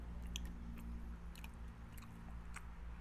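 Crunchy chewing of crispy grilled rat, close and fairly quiet, with irregular bites and crackles over a steady low hum of background noise.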